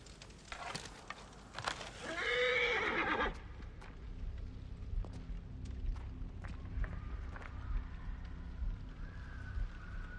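A horse in Assassin's Creed Origins lets out a loud, quavering whinny, followed by quieter game ambience with faint thuds and clicks.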